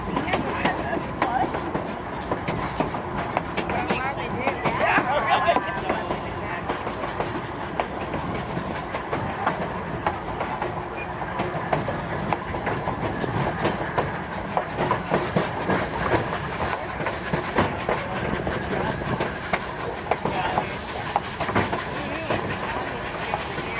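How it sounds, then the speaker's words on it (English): Cumbres & Toltec train passing over the iron Lobato trestle: continuous rumbling wheel noise and clickety-clack from the cars, fairly close and steady throughout, with voices chatting in the background. "So there's a train right there."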